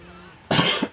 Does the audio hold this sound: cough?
yes